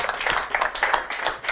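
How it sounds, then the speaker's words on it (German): Studio audience clapping for a guest on a Swiss talk show, a dense, steady patter of many hands at close range, with no voices over it. "Applaus für Doris!"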